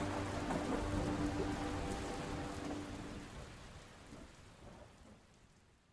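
Steady heavy rain pours down with deep rolling thunder rumbling through the first few seconds, then the storm sound gradually fades and thins toward the end, with no voices present.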